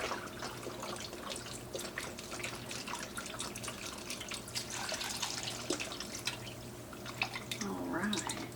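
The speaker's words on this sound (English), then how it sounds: "Add the other broth here." Broth poured from a carton into a cooking pot that already holds white beans, giving a steady, continuous liquid splashing and trickling that runs throughout at moderate volume over a faint background hum.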